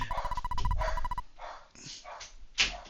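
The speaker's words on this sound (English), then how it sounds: "Dogs." Dogs barking in the Megaman fan game Make A Good Megaman Level 3, several yaps and woofs in quick succession over a tonal game music loop, then a few separate barks trailing off.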